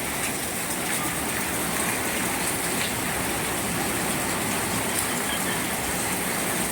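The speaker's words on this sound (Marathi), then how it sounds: "मुसळधार पाऊस पडत आहे बघा उदगिरी या ठिकाणी" Heavy rain pours down in Udgir, a dense, loud, continuous roar of falling water with faint patters, steady from start to finish and without speech.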